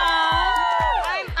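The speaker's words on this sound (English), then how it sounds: "Can we like actually cheer for them as a real life couple?" A crowd at a Degrassi premiere party cheers and whoops loudly for a couple, with high excited shouts rising and falling in quick bursts.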